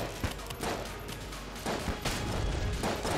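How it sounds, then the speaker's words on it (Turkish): Dense gunfire and explosions from the Enter the Gungeon video game, a steady loud barrage of rapid blasts and crashes with several sharper bursts throughout. "arkadan da patlamalar geliyor böyle"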